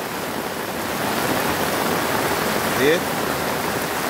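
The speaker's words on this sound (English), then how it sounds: "So this show you the volume amount of water what is coming from uptown." Floodwater rushes steadily through a concrete gully running up to a wall, a dense continuous roar of water throughout, with a brief spoken word heard over it near the end.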